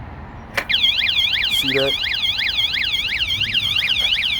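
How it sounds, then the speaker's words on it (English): An anti-theft alarm on an Ecotric 20-inch fat tire electric bike blares very loudly and continuously, a rapidly warbling electronic siren that repeats without pause after a brief thump, with someone talking over it. "Now the alarm goes off onto it. And it is very, very, very, very loud."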